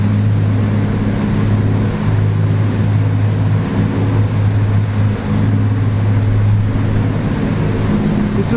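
A Trader 535 Sunliner motor yacht rolls in a beam sea, its engines droning steadily low and loud beneath a broad rush of wind and water chop slapping the hull, continuous and unbroken with no voices.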